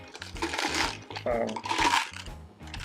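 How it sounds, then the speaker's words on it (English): Small Magic: The Gathering-style Amonkhet and Hour of Devastation dice, blue and red, rattle and clack together as they are handled, a close, busy clatter of little plastic cubes in brief clusters. "I picked up a few dice, as you can hear."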